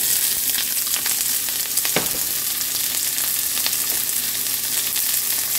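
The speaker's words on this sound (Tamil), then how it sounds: "உப்பு இதெல்லாம் நல்லா வதக்கி விடுங்க" Chopped onion and dried red chilies sauté with salt in a pan for a ridge gourd stir-fry, giving a continuous bright sizzle and crackle with occasional stirring scrapes, close and even throughout.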